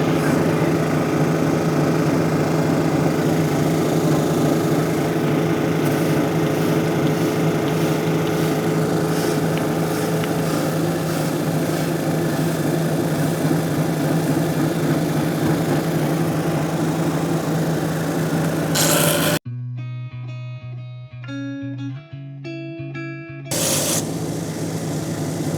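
A geode polishing machine runs loud and steady with a rough grinding hum and hiss, then cuts out briefly to a quieter tonal whir before the grinding roar returns.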